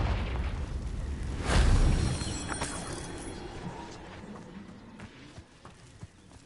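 A Confringo spell bursts in a Harry Potter video game with a single deep booming blast near the middle, then settles into a low rumble with faint scattered clatter.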